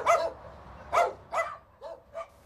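Several dogs bark at a South Korean dog farm, with a handful of close yips and barks at uneven intervals over a low background murmur.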